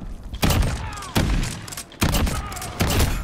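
VLK Rogue shotgun from Call of Duty: Modern Warfare firing four loud, punchy blasts spaced roughly a second apart, each a sharp boom with a brief tail, heard alone without talk.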